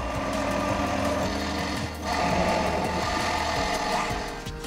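A metal lathe cuts into a valve housing for an air regulator, producing a steady, loud whirring machine drone that runs without pause, with a faint rhythmic ticking beneath it.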